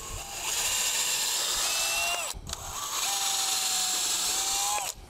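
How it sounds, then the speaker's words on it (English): A power drill pre-drills into cedar fence wood in two close, loud whirring bursts, each about two seconds, with a brief pause between them and the motor pitch sagging under load. "Just wanna pre-drill, get past the cedar surface so that nothing splits on me."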